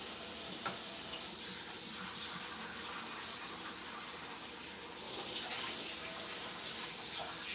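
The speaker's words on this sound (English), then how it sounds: "I'm just rinsing it off" Tap water runs steadily into a kitchen sink while potatoes are rinsed for mashed potato soup, a continuous close splashing hiss that dips briefly in the middle and then resumes, with no talking.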